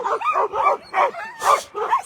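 Eager sled dogs at the start line of the Vercors Quest race in the Vercors, France, barking and yelping in rapid, excited bursts close by, with whimpers between barks.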